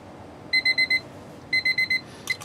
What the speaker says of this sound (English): The state does allow you to use your cell phone as a timer for this test.